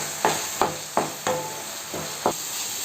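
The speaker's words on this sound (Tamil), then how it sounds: "இப்போ இது இந்த பச்சை வாசம் போகிறதுக்கு ஒரு 2-3 நிமிஷம் நம்ம நல்லா வதக்கலாம்." Coriander masala sautéed in a pan, a steady sizzle broken by about six regular spatula stirs and scrapes, close and clear with no talking.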